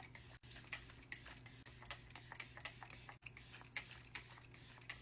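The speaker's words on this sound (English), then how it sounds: "We would drench our face in setting spray first." Setting spray misted over a face during a full-glam makeup routine, a steady soft hiss of repeated pumps with faint scratchy bursts, close and fairly quiet with no talking.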